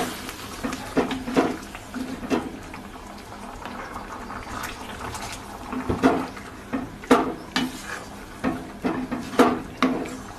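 Hot water goes into a pan of yardlong beans, potatoes and Gobindobhog rice, making a close, steady bubbling and gurgling of liquid with a few louder splashes and pan knocks throughout.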